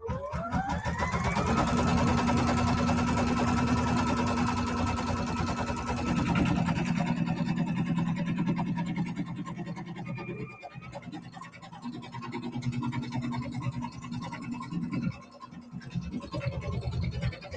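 An embroidery sewing machine stitches out a quilt block in the hoop with a steady, continuous mechanical whir and rattle that shifts in pitch now and then.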